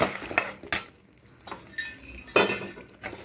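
Peanuts and sesame seeds fry with dried chillies in a pan for raw mango pulihora. Irregular clinks and scrapes of a spoon against metal ring out over a light crackle, close and fairly loud.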